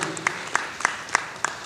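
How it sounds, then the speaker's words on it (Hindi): Applause from a theatre audience for the cast of the play Bunkar Ki Beti, moderate clapping with a few sharper claps standing out, heard with faint talk in the background. "जोरदार ताली बजाइए आप इसके लिए।"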